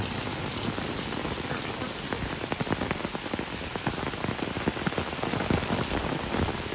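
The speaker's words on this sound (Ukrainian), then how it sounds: "Дощ не закінчується" Steady rain falls onto a nearby surface, heard from under an umbrella, with many distinct drops pattering and tapping over a continuous wet hiss.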